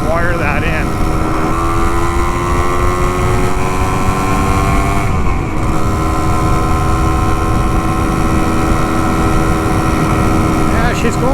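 A vintage Can-Am 250 TNT motorcycle engine on a test ride, its loud steady two-stroke drone holding a high pitch near top gear with a brief dip midway, with wind noise and no speech.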